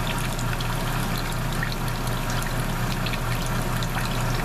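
Water gushes and trickles steadily out of soaked, unwrung laundry in an RV, a continuous, fairly loud pouring stream with a low underlying rumble and no talking.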